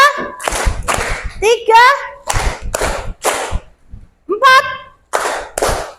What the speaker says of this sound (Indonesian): kita tepuk-tepuk dulu biar lebih semangat ya